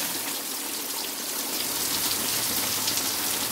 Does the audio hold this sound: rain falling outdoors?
yes